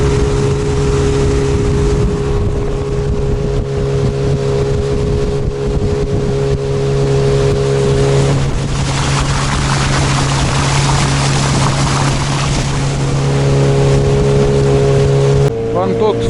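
A new boat with a Mikatsu 9.8 outboard motor running at medium revs on a shallow river, a loud, steady droning hum close by with rushing water and wind, someone talking over it at times.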